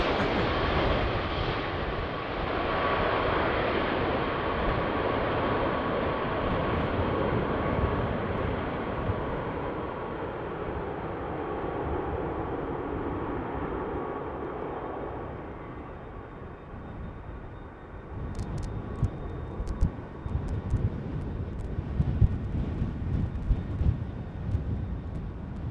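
An airplane taking off on runway 36L at Amsterdam Schiphol in windy conditions, its engine roar strong at first and then fading steadily as it climbs away, with wind buffeting the microphone toward the end.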